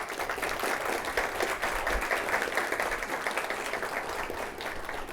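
An audience at a culinary competition summit gives a sustained round of applause, a dense steady wash of many hands clapping throughout with no clear talk on top.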